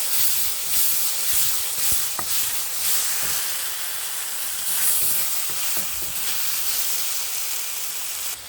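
A paste of tomato, ginger, garlic and spices fries in hot oil for an egg curry, giving a steady close sizzle and hiss with scattered small crackles throughout and no talking.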